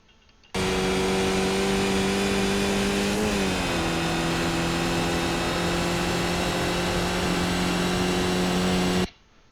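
A Skip Barber race car engine in the iRacing sim drones steadily at high revs on the Zandvoort circuit, its pitch dipping briefly at a gear change and then holding. The engine is loud and continuous, with no talk.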